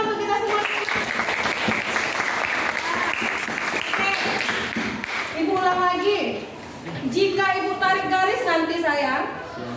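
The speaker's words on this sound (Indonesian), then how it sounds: "Tepuk tangan untuk kita semua." Children in a classroom clap together in a loud, sustained burst that fades briefly near the middle and then swells again, with kids' voices and cheering mixed through it.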